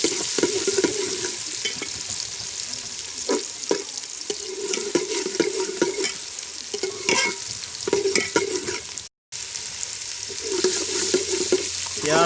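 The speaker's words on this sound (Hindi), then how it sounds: "प्याजों को अच्छी तरह भून लेना है" Onions fry steadily in hot ghee for a Bengal gram split curry (daal chana salan), with a constant bright sizzle and frequent scraping stirs from a spoon. A brief dropout interrupts it near the end.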